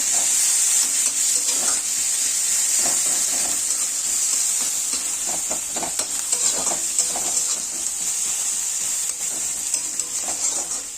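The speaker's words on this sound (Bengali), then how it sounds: "পেঁয়াজটা একটু ভাজা ভাজা করবো" Onions frying in a pan for a spicy puti fish curry with green tomatoes, with a steady loud sizzle and hiss, occasional stirring scrapes and clinks over it, with no talk.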